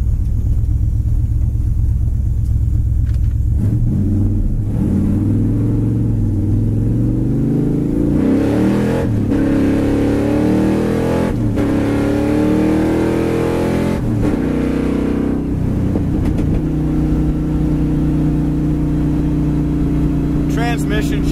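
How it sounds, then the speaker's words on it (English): A 1970 Camaro with straight pipes idles and revs, its deep rumbling exhaust burbling and swelling through repeated throttle blips, close and loud, with speech over it at times. "Get a little cackle, it's got kind of straight pipes on it, I think."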